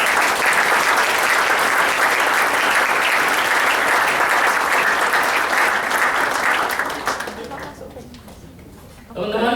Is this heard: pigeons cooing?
no